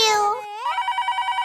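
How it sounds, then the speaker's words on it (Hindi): A telephone rings indoors with an electronic melodic tone that slides in and then settles into a rapid, evenly pulsing trill, fairly loud and close. "फोन आया।"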